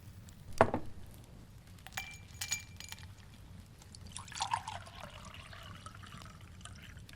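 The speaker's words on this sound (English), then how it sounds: "Let me pour you some." A drink poured into a glass indoors, opening with a sharp clink, then quiet liquid splashing and trickling with faint glassy taps, soft and close.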